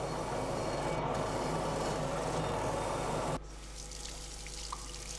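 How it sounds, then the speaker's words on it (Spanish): Cork wheel polishing engraved cut glass kept wet with water in a glass workshop, a steady broadband whirring wash of wheel and water that drops abruptly to a quieter hiss partway through, with no speech. "Con una rueda de corcho, el tallista pule los dibujos realizados."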